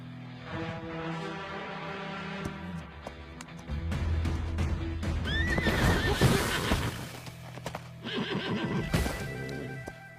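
A horse in the 2025 Hindi film Azaad neighs loudly and whinnies in rising bursts over thudding, clopping hooves and scene ambience, with brief activity between calls.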